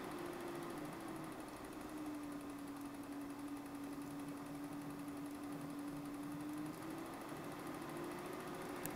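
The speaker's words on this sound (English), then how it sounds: "this is a true variable speed projector." A Berkey Keystone Dual 8 film projector runs steadily on its own, giving a continuous mechanical whir with a sustained motor tone that holds even for the whole stretch.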